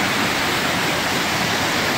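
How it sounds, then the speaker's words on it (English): Water pours steadily from Lewis Smith Lake Dam, a loud, unbroken rushing roar that fills the whole stretch without pause. "Got the water coming down"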